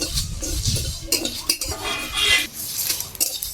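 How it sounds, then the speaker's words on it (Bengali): Spices for an amla pickle are dry-roasted in an empty pan, heard as close, loud metallic scraping and clinking of a utensil against the pan in irregular strokes, with no voices. "নেড়ে চেড়ে ভেজে নেব"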